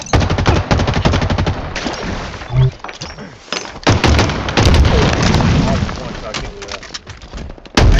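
Rapid bursts of automatic weapon fire from a Halo Infinite capture-the-flag match, dense and continuous with sharp shot transients and a few heavier booms, mixed with game sound effects and some voice.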